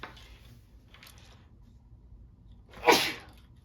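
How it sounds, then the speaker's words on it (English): A single sharp sneeze bursts out near the end after a few quiet breaths, loud and close. "Excuse me, I gotta sneeze."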